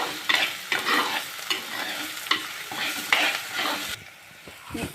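Onions frying with salt in a pan for kingfish mappas are stirred with a spoon, making close scraping strokes in a rhythmic pattern over a constant sizzle, with no talking.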